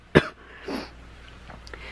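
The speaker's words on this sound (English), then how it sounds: "I'm getting over being sick, so now I got a cough" A single sharp cough from a person recovering from illness rings out near the start, followed by a softer breathy throat sound, then quiet room tone with small clicks.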